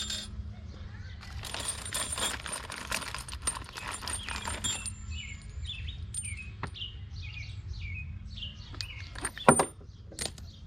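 A metal washer drops while bolts are pushed through during a Kubota BH77 backhoe install on a B2650 tractor, giving a brief bright clink near 9.5 seconds over steady outdoor background with birds chirping.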